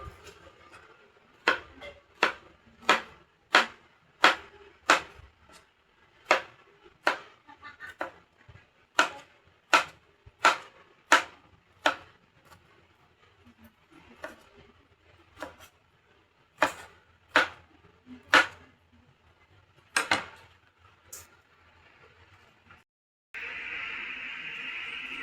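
A knife chops sponge gourd (patola) on a cutting board in a steady run of about twenty crisp, evenly spaced cuts, fairly close and clear with no voices, before a short burst of brighter noise at the end.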